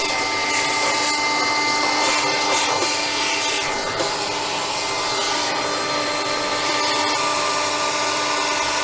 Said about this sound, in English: this 800 watt spindle is a breeze. It's running at about 3/4 of the RPM that it can run at.